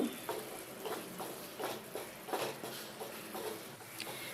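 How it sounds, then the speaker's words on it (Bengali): Spice paste gravy for an egg curry fries in a pan over a medium gas flame, with a faint, soft sizzle broken by repeated light scraping strokes of a spatula at an uneven rhythm. "এবারে গ্রেভিটাকে দু তিন মিনিটের জন্যে কন্টিনিউয়াসলি নেড়ে যেতে যেতে কষিয়ে নেব"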